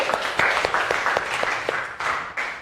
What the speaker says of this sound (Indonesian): Mari kita beri tepuk tangan untuk kelompok 1.